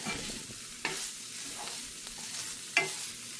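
Grated coconut roasts in a pan, with a soft steady sizzle and occasional scraping strokes of a spatula stirring it, heard close and quiet with no talking.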